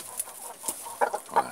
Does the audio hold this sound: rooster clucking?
yes